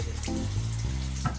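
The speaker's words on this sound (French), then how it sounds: "vous passez sous la douche" Water from a home shower runs in a steady, continuous rush at close range, with no voices.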